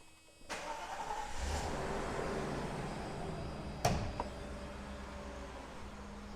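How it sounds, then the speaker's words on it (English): A 1991 Mercedes-Benz 420 SEL W126 engine cranks briefly and catches, then settles into a smooth, steady idle close by, with a short sharp clunk partway through. "let me pop the hood and get the engine going"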